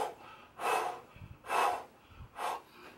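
Controlled breathing during isometric strength training: three deep, forceful breaths in a steady rhythm, heard close to the mic, with faint thumps between them.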